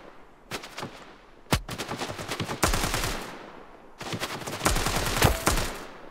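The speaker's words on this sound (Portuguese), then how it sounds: "você tá dando tiro, eu tô atirando no seu, nas suas balas" Bursts of rapid automatic gunfire crackle in a shooter video game, long loud volleys broken by short pauses, with sharp single shots among the rattling fire and no talking.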